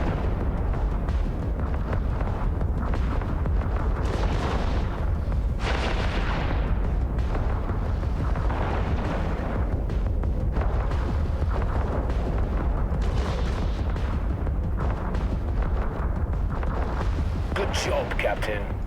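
Space-battle gunfire and explosions from EVE Online fill the stretch with dense, continuous booming and rattling fire, loud and layered, with bursts of heavier blasts throughout.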